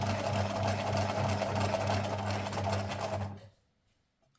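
Close-up sewing machine stitching fabric scraps, a steady fast whirring hum for about three seconds before stopping abruptly into near silence.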